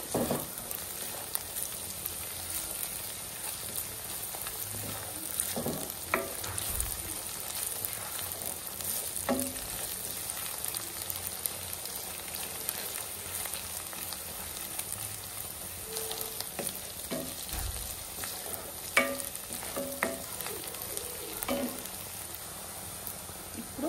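Ginger garlic paste frying with onions in a home kitchen pan for a ridge gourd keema curry, a steady sizzle with occasional stirring clinks and scrapes throughout.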